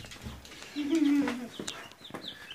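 Ducklings and chicks chirp and cluck in a brief, close burst, with faint rustling and a low trill in the middle.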